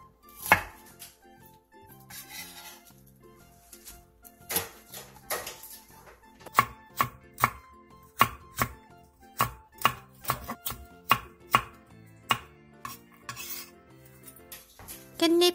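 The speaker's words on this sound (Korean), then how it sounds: "부추 500원 크기 정도 한 줌을 5cm 정도 길이로 잘라주세요. 양파 2분의 1개를 채 썰고 청양고추 1개를 어슷썰기 해주세요." A knife chops chives, onion and a chili pepper on a board, starting with a few scattered cuts and then settling into a steady run of crisp, evenly spaced close-up strikes.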